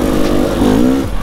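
A 125cc two-stroke enduro motorcycle riding in Fürstenwalde, its buzzy engine loud and close with a rising and falling whine as the throttle changes.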